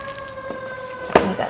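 A siren wails steadily from outside in the distance, a sustained tonal note faint under room sound, with a brief sharp knock near the end.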